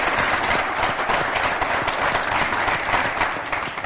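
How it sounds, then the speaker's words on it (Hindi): An audience at a comic poetry recital claps to welcome the poet Dr. Sunil Jogi, with loud, continuous, dense applause filling the hall at close range without letup. "आइए तालियों के साथ उनका स्वागत करेंगे"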